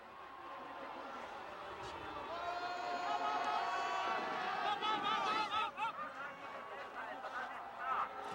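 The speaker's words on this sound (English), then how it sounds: "Listen to the crowd cheering on Markus Prock." Spectators crowd the track at a luge world championship, cheering on an Austrian slider with rising, excited shouts and whoops that swell and surge over several seconds, with commentary voices running underneath.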